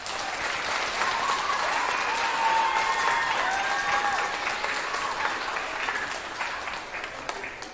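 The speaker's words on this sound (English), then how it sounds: "let's give her a round of applause" An awards-night audience breaks into full, loud applause, a dense continuous roar of many hands clapping with some crowd voices mixed in, holding steady before easing off slightly toward the end.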